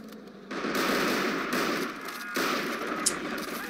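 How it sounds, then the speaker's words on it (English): Rapid machine-gun fire aimed at an armored vehicle in the war strategy game Men of War: Assault Squad 2, a loud continuous burst that rattles on with brief breaks, close and alone. "Okay, let's shoot at this guy."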